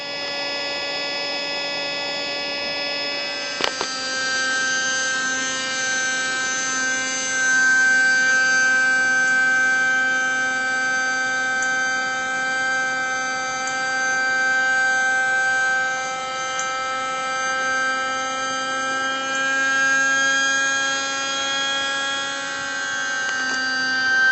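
A pump inflating an Intex Excursion inflatable boat drones on with a steady mechanical whine for the whole stretch, holding an even pitch with a brief click early on, close and continuous.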